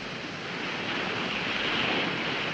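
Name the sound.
ocean waves and surf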